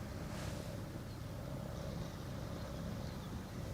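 A very small boat passes on the Westerschelde at low tide, its engine a low, steady, distant drone mixed with wind noise, with no talking.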